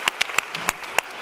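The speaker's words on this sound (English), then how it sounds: "Clap for yourself." Audience members clap at an arts education conference workshop, with about six sharp, separated claps spread unevenly across a short stretch, each ringing briefly over a low room murmur.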